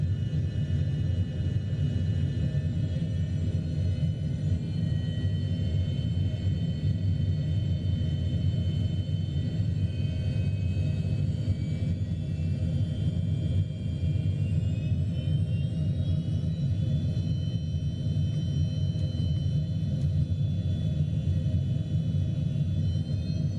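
Steady airliner engine roar in Microsoft Flight Simulator on a takeoff roll from runway 12, a constant low rumble with a faint high whine that climbs slightly toward the end, no voices.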